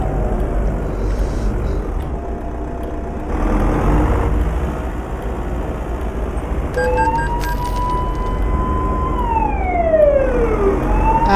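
A police car siren wails in the driving game Euro Truck Simulator 2 over a steady engine and road drone, rising and falling in pitch, fairly loud and up close.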